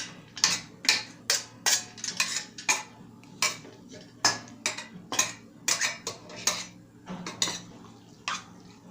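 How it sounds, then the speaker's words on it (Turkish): A spoon stirs a pasta mixture for pasta börek in a bowl, making rapid rhythmic clinks and scrapes that repeat roughly twice a second, close and fairly loud. "Makarnalar olduğu gibi karıştıracağız."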